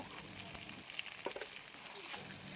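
Raw mango pieces with turmeric, chili powder and salt sizzle quietly in a pan while a spatula stirs, giving soft repeated scrapes over a continuous hiss; close but low in level, no voices.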